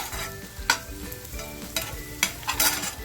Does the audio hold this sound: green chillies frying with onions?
yes